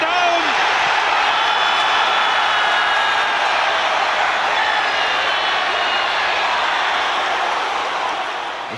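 A dense, roaring football stadium crowd erupts after an Arsenal goal, a loud continuous wall of cheering and shouting that holds steady throughout and eases only slightly at the end.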